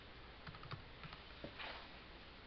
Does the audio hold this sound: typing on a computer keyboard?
yes